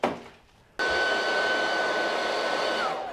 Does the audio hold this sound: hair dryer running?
yes